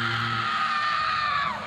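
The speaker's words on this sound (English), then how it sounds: "and the scream of victory" A female pro wrestler lets out a loud, sustained scream of victory at a women's wrestling match, one long high-pitched cry that holds steady before trailing off at the end.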